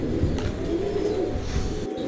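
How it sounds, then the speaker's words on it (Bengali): Pigeons cooing at a pigeon farm in Rajbari, a steady murmur of low coos continuing throughout at close range. "আজকে কিছু কবুতর দেখাবো রাজবাড়ী ফরিদ"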